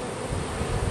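Italian honey bees swarm around an opened hive, a dense, close, continuous buzz with no voices over it.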